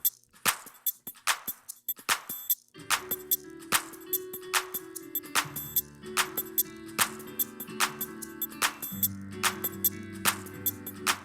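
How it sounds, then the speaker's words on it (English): Drum loop used as a church band backing track: a steady programmed beat of sharp hi-hat and snare hits, with sustained bass and keyboard tones joining after a few seconds, loud and continuous without voices. "just a loop. And the loop sounds like this."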